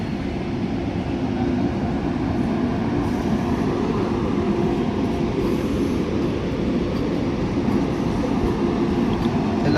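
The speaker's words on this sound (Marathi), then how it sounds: "वंदे भारत ट्रेन चालली आहे बघा इगतपुरी स्टेशनवरून." A Vande Bharat train running past at Igatpuri station, a loud, steady, continuous rumble of wheels and carriages, close by and unbroken throughout, with no talk.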